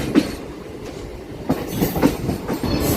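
A MEMU train rolls through Bobbili Junction railway station, its wheels clacking in irregular knocks over a steady rumble of carriage noise, close and continuous, with no voices.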